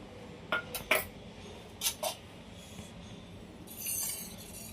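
A spoon stirs homemade cream into tomato soup in a metal pot. A few faint clinks and scrapes land in small clusters against a quiet background, with no talking.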